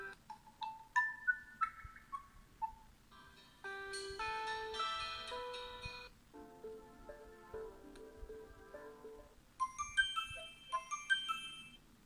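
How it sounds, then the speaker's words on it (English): A run of electronic ringtones on an Essential PH-1 smartphone plays one after another: bright melodic chimes, jingly tones and rising beeps, clear and alone with no talking. "Alright, so that was the phone ringtones."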